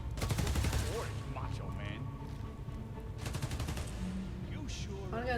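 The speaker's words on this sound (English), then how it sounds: "What's that gunfire?" Rapid bursts of automatic gunfire in the Spider-Man: Miles Morales video game, two loud rattling volleys with shorter shots and effects between them, while a person talks over the action.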